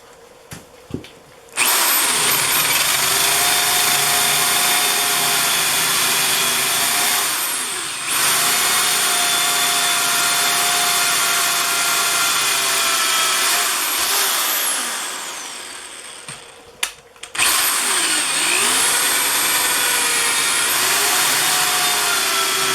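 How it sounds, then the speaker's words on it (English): A power drill bores a pilot hole into the center of a large 300 lb wood log, its loud steady whine running with brief pauses and restarts, and the pitch sagging as the bit loads up in the wood. "I've made a guess at where the center of this thing is, and I'm starting a pilot hole at that point."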